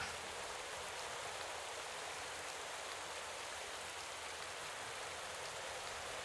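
Steady rain falls continuously during an Olympic track cycling event, a dense even hiss of drops on a surface with no pauses and no voices.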